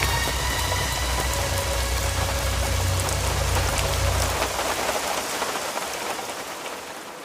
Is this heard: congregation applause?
no